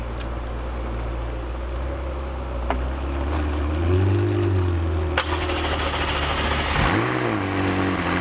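A McLaren sports car at a dealership fires up after a low background rumble, the engine revving up and swelling around the middle, then dropping and flaring again in a second blip before settling.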